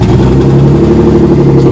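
A BMW E46 drift build car's engine runs loud and close just after starting, a dense steady mechanical drone with a rough rumbling pulse and no voices.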